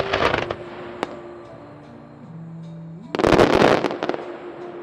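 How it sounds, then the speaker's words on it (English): Daytime fireworks by artist Cai Guo-Qiang burst outdoors in two loud crackling volleys, a dense opening flurry of pops and a single sharp bang, then a quieter lull before a second heavy barrage of rapid explosions. "As we light up the daytime fireworks"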